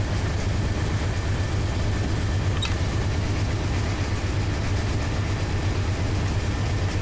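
A steady, loud low rumble and drone from a 12,000-ton coal train running in the Run 8 Train Simulator game, unbroken for the whole stretch with no talk.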